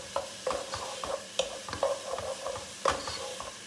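Meat browning in a pan for chilli con carne, soft sizzling with repeated scraping stirs in an irregular rhythm, close and fairly quiet.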